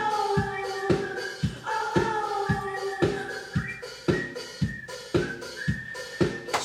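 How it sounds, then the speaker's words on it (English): A whistled melody, slightly out of tune, drifts over a steady rhythmic pattern of soft clap-like beats that repeats about every half second. "Let's do a melody, and we whistled it, and that sounds like this."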